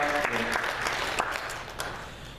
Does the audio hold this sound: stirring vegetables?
no